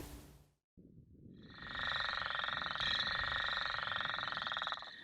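Northern leopard frogs calling from a marshy lake, a rapid rattling snore-like croak that swells and holds for several seconds, close and clear, with a brief sound before it and a pause.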